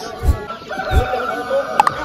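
Chickens and roosters at a busy poultry market in Osh, with nearby clucking and short fowl calls over a low crowd murmur and a couple of sharp knocks.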